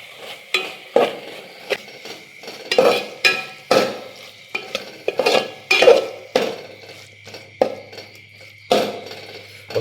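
Fried prawns being stirred into a masala in a pan, with repeated scraping and clinking of a utensil against the metal pan in an irregular rhythm, close up, over a faint sizzle and with no talking.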